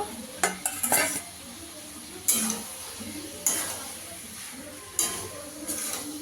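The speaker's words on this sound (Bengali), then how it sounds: "এবার গাটি, আলু, চিংড়ি মাছ সব দিয়ে দেবো।" Prawns, potatoes and gati being stirred into frying masala in a pan: a spoon clinks and scrapes the pan every second or so over a soft, steady sizzle, close by, with no talking.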